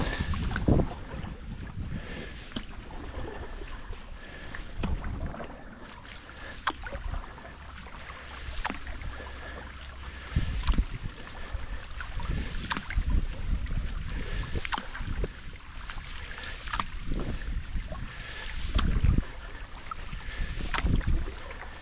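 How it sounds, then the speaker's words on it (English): A canoe or kayak is paddled along the Tay Canal, with repeated splashing strokes and drips over steady wind buffeting close to the microphone. "Let's capture a little paddling action."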